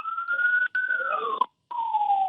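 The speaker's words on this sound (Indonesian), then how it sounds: "kami baru saja mendengar ada suara sirine?" A wailing emergency siren near a landslide search site in Cisarua rises and falls in long sweeping tones, loud and steady with a brief gap, with no voices over it.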